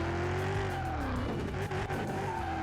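Ford Mustang II in the Car Mechanic Simulator game burning rubber, a loud sustained engine roar with a wavering squealing tire tone running steadily throughout, close and with no talking.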